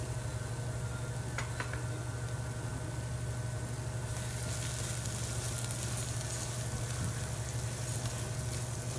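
Onions and green chilies frying in oil with chili powder and salt for an egg masala fry curry, a faint, steady hiss of sizzling oil throughout with a couple of soft clinks early on.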